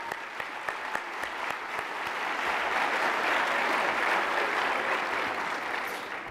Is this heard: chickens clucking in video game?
no